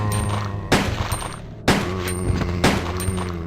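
Loud, close gunfire bursts from Resident Evil 2 on PlayStation 1, with three heavy volleys about a second apart over a sustained droning game soundtrack.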